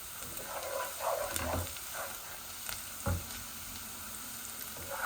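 Garlic frying in oil in a pan for a rohu fish and tomato curry, a steady crackling sizzle throughout with a few louder stirring scrapes and clinks, close and alone.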